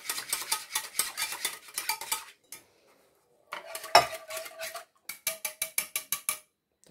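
A spoon stirring yeast into milk, quick rhythmic clinking against the bowl in bursts, pausing briefly, then resuming in fast regular strokes, close and clear.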